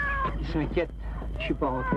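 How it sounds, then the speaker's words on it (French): A domestic cat meows a few times nearby, its cries mixed with someone speaking French over a low background hum. "C'est mon chat."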